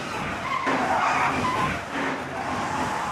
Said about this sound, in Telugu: ఒక టాక్సీ పోయి ఇన్ని వందల టాక్సీలు వస్తున్నాయి.